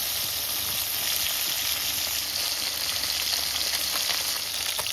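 Fresh live pond fish fry in a hot wok, a steady, dense sizzle and crackle of oil heard up close and unbroken, with no talking.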